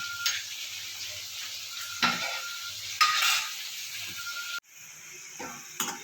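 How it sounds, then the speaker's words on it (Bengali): Potatoes frying in hot oil in a pan for a cabbage dish, a soft continuous sizzle with a few scraping stirs and light clinks of a utensil against the pan. "আলুগুলো আমার লাল লাল করে ভাজা হয়ে গেছে"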